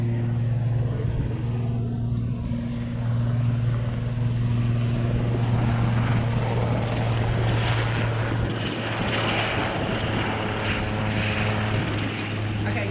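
Navy helicopter flying at a New Zealand air display, a steady loud rotor and turbine drone with a low throbbing hum that holds throughout and swells slightly, heard near and alone.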